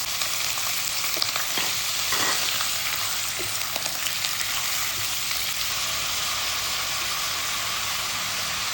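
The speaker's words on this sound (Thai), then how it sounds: "หลังจากนั้นเราก็จะใส่ปลาหมึกลงไปผัดนะคะ ผัดกับน้ำมันเนาะ" Squid stir-fries in hot oil for a Thai curry-powder dish, producing a loud, dense, unbroken sizzle with a few brief stirring scrapes early on and no voices.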